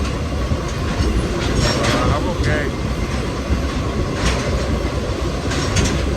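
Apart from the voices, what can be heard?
passenger train riding on rails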